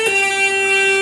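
An electric guitar plays a hammer-on and pull-off lick from a rock song, a single sustained, slightly distorted note ringing steadily for about a second, loud and alone with no talk.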